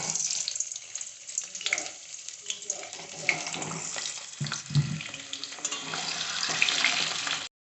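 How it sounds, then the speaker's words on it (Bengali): Potato pieces fry in hot mustard oil in a pan, giving a steady, close sizzle that runs the whole time with a few small clinks and bumps. "সরষের তেল দিয়ে তেলটা গরম হলে আমরা একে একে টুকরো করে রাখা আলুগুলোকে দিয়ে দেব"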